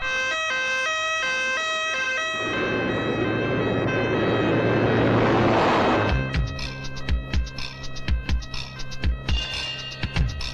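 A loud wailing ambulance siren sweeps steadily for several seconds, cut through by a burst of rushing noise, then sharp clattering thumps follow, in an action film scene.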